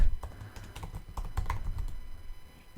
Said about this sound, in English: So I can just type it